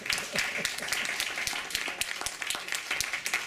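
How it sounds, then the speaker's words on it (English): An audience at a 25th birthday stage show claps for a volunteer named Debbie: a thick, fairly quiet patter of many hands at a steady pace, continuing throughout. "Give Debbie a round of applause."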